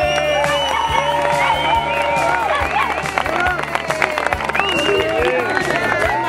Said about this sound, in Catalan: Molt bé, un aplaudiment molt gran.